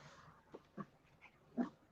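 A dog indoors giving a few short, soft whimpering yips and muffled barks at irregular intervals, faint and close, with no talk.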